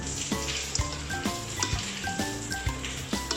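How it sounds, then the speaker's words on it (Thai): Mixed vegetables stir-fried and tossed in a pan: a busy sizzling hiss broken by regular metallic scrapes and clanks of the utensil against the pan, roughly every half second, close and continuous with no talk. "ผัดคลุกเคล้า ผัดคลุกเคล้าให้เข้ากัน"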